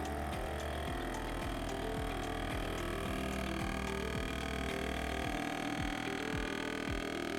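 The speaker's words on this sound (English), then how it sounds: "Press vac seal to start a working cycle." An Anova Precision Vacuum Sealer Pro hums steadily through a sealing cycle with a rhythmic low throbbing pulse repeating about once a second, like a pump drawing a vacuum, continuous throughout.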